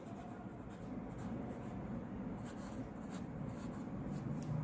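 Pen or pencil writing on paper in a kindergarten lesson on good manners, a steady soft scratching that runs on without a break, fairly faint and close, with no talk over it.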